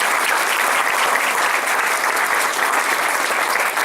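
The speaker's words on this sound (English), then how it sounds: "How about a round of applause for our table?" An audience applauds steadily and loudly at a roast dinner banquet, continuous dense clapping throughout.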